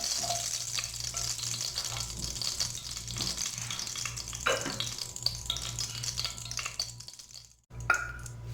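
Bay leaf and cumin seeds fry in hot oil with a soft, even crackling hiss. Faint stirring scrapes come through, and the sizzle drops out briefly near the end before resuming.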